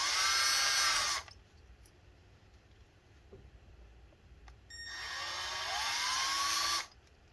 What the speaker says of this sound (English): And we're going to continue drilling all of these.